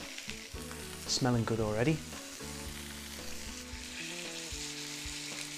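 Soy-marinated pork sears loudly in a hot pan, a steady sizzle running throughout, while someone speaks briefly near the start.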